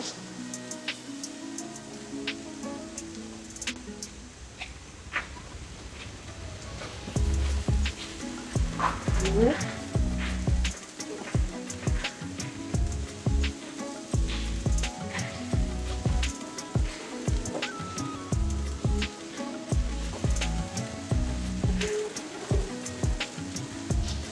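Chira pulao, a dish of flattened rice, being stirred and tossed as it fries in a pan, giving a busy sizzle with repeated scraping and rustling strokes that grow louder and more rhythmic partway through and continue steadily after that.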